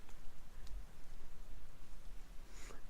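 Light drizzle falls on a vehicle parked up for the night in stag country, a steady soft patter of raindrops close by with a few slightly louder drops, no voices.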